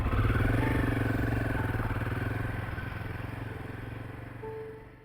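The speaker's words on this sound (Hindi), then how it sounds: "रुद्र भाई बाइक से लग रहा है एक अच्छे राइडर हैं," A motorcycle rides along a road on a Kargil-to-Kanyakumari trip, its mid-pitched engine droning close and steady before it gradually fades away.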